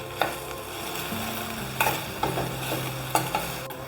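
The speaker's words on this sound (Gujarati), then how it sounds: "હવે આપણે એમાં લાલ મરચું એડ કરીશું અને મિક્સ કરી લઈશું" Okra cooking with red chilli powder in a pan is stirred with a spatula, sharp scraping clicks landing every second or so over a faint, steady sizzle, no voices.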